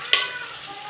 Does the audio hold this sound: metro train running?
no